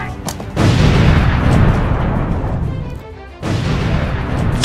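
A frag grenade explosion in a Nerf gun action skit against criminals: a loud, close, rumbling blast that starts abruptly, roars for a few seconds, dips briefly, then swells again.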